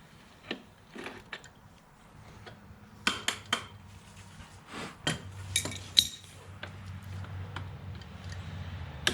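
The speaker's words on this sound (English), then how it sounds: "it takes quite a bit of pressure to get that off. That's why you use a big wrench" Metallic clinks and ticks from a big wrench working the rear axle nut on a Suzuki DR650 motorcycle, scattered sharp taps and ratcheting clicks at irregular intervals, close and fairly loud, no talking.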